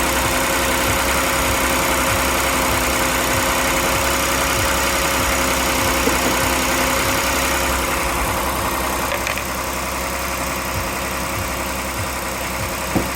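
A 2015 Ford Explorer engine idles steadily and continuously during a radiator replacement, a low mechanical rumble with a faint vibrating hum, no voices present.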